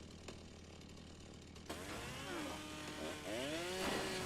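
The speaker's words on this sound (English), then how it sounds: "the best thing to destroy Rex is a chainsaw" A chainsaw revs and cuts into a zombie in a survival video game on nightmare difficulty, its rising and falling engine whine starting abruptly partway through and growing louder, with a few quick hits, no voices.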